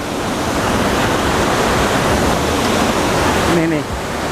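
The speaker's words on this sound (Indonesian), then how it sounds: "Nah itu kan ada air ya. Yang netes dari pipa tuh." Water pours and splashes steadily from pipes at a PDAM Cibanon water treatment plant, a loud continuous rushing wash that fills the whole clip, with a brief faint voice near the end.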